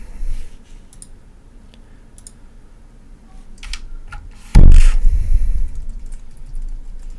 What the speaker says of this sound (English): You guys can't see me typing my password